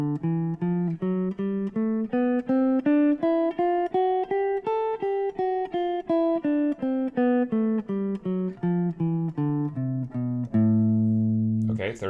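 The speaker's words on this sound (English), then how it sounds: "Okay, now the second fingering starts on A, and it will sound like this." Rising then falling run of a dominant bebop scale from A, played in the second fingering position; crisp, evenly paced notes sound up close, with a held low tone and a voice beginning right at the end.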